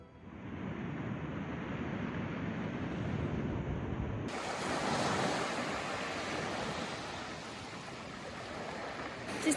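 Ocean surf washes continuously onto a beach in Olympic National Park, a steady broad roar of breaking waves with wind buffeting the microphone, no voices.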